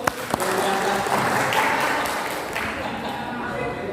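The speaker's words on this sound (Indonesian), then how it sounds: "Tepuk tangan dong buat" Applause from a seminar audience for one of its members, a dense wash of clapping from a room of people with a few louder claps near the start and voices talking over it.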